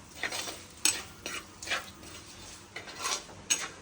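Masala being stirred into cooked clam meat in a pan for erunth roast, with a series of separate scraping and clinking strokes of a spoon against metal at close range, each followed by quieter gaps.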